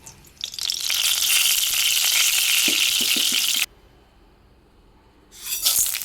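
Cluster beans dropped into hot oil in a pan, a loud bright sizzle for a few seconds with some clattering taps, then a quiet pause before the sizzling rises again.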